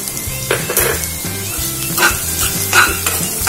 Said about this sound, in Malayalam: ഇതും ഒരു ഗോൾഡൻ ബ്രൗൺ വരുന്നവരെ നമുക്ക് വറുക്കാം.